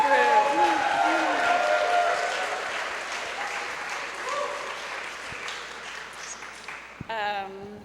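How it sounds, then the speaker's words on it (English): Audience applause at a creative science talk event, a dense burst of clapping that gradually fades over several seconds, followed by a brief voice near the end. "Let's get another round of applause for our Year 11 Creative Science Group."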